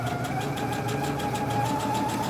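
A sewing machine stitches a bandana bag with a close, steady motor whir and a fast, even pulse of the needle running without pause.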